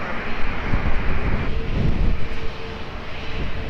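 An airliner roars down the runway on takeoff at Lisbon Airport, a loud, steady rumbling engine noise that holds and swells for several seconds.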